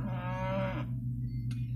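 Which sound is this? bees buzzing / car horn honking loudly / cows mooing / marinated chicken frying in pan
cows mooing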